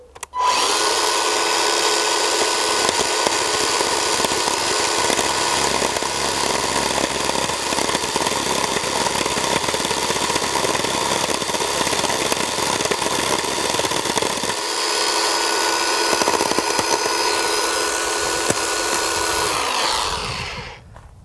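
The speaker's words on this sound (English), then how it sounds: "I want to cut like a hollow there and a hollow there with the chainsaw" Chainsaw cutting hollows into a tree for a bonsai, a loud, steady high-revving whine held for about twenty seconds, close up, dipping slightly midway before winding down at the end, with no talking.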